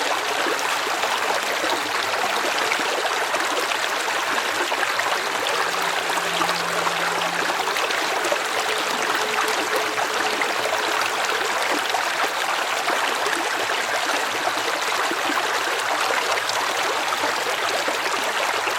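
Water streaming steadily through flooded channels on the African savannah, a constant broadband rush that holds evenly for the whole stretch, alone with no voices.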